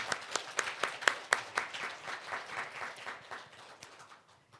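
A church congregation claps during a Sunday worship service, with sharp, distinct claps at first that thin out and fade toward the end. The applause is quiet and heard alone.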